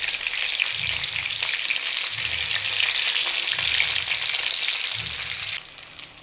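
Chopped garlic, ginger and green chili frying in sesame oil for mango pickle, a bright continuous sizzle close by with soft periodic scraping stirs in the pan.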